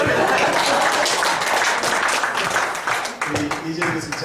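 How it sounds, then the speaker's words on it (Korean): Audience applause at an education society's annual general meeting, a steady crowd clapping that tapers while a speaking voice and other talk come through over the thinning claps. "박수 주세요"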